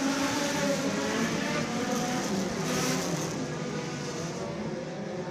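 Sport compact race cars run in a pack at Screven Motor Speedway, a dense, continuous engine roar that stays loud throughout and fades slightly toward the end.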